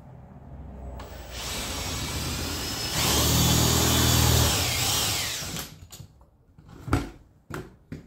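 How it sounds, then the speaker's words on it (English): A power drill drilling out a rivet in a Willys inner door latch whirs at a steady pitch for several seconds, biting harder midway, then stops, followed by a few sharp metallic knocks and clatters. "so I want to drill out this one right here."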